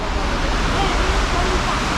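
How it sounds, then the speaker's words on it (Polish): Water splashes steadily in a fountain on the main square of Catania, a dense continuous rush of spray close by, with faint crowd murmur beneath. "Na jednym z rogów tego placu głównego ze słoniem jest fontanna."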